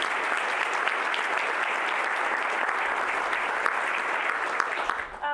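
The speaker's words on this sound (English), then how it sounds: "if we could give Wilder Catering a round of applause for the delicious pleasure" An audience at a city address gives caterers a round of dense, even applause that carries steadily before tapering off at the end.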